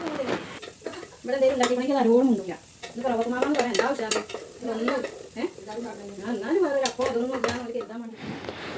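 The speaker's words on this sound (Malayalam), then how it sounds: "നമുക്ക് അതിൽ തൂമിക്കാനുള്ള ഉള്ളി വെച്ചിട്ടുണ്ട് അതൊന്ന് തൂമിച്ചെടുക്കാം" Onions fried and stirred in oil for tempering a brinjal curry, a steady sizzle with spoon scrapes running under a voice that talks almost throughout.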